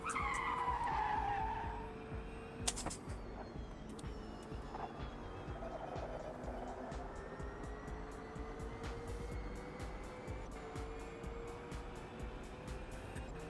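Race car tyres skidding and squealing on cold tyres in the Automobilista 2 sim during an IMSA session, a loud screech at first that fades under steady engine drone, with no talk.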